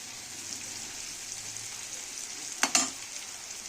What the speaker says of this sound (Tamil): சிக்கன் லிவர் நல்லா எண்ணெயிலே ஃப்ரை ஆகணுங்க